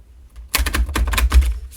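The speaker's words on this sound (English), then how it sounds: "We'll give this a couple shuffles." Tarot cards are shuffled close up in a fast run of crisp, riffling clicks and slaps, loud and dense for about a second, with no talk over them.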